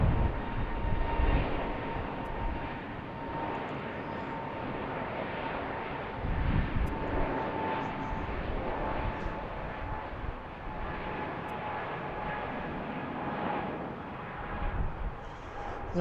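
A Frontier airliner takes off from runway 15 right at BWI airport, its engines a broad, steady roar that holds strong for the whole span, with a faint high tone running through it.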